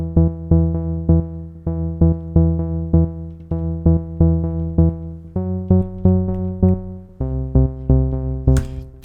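Sawtooth-based synth bass line built in Ableton Live, repeating short punchy notes in a steady syncopated rhythm that shifts pitch every couple of bars, loud and dry with nothing else playing.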